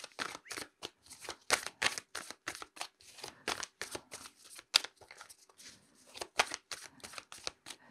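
Animal spirit oracle cards being shuffled by hand, a quick run of close, crisp riffling bursts repeating steadily with brief pauses between them.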